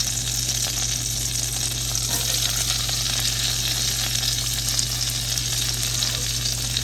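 Onions and garlic frying in butter in a pan, a steady, close crackling sizzle with no breaks, over a faint constant hum from the kitchen.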